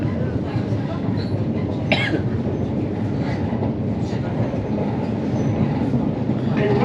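A Metropolitan line train runs steadily with a continuous low rumble and roar, a brief squeal near the middle and faint rail clatter, with no talk over it.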